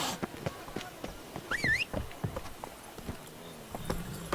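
Roach, a horse in The Witcher 3: Blood and Wine, clip-clops along in a steady rhythm of close hoofbeats. A brief whinny-like squeal cuts in partway through.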